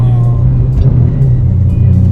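A Subaru Legacy BP5 fitted with a swapped GRB engine accelerates, its loud, steady engine drone filling the cabin and climbing gently without a break.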